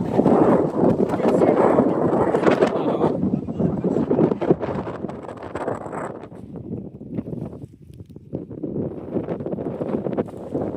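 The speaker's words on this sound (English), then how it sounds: "Definitely windier here." Strong, steady wind roars and buffets across an exposed hilltop summit in Galloway, southern Scotland, gusting loudly throughout and easing slightly near the end.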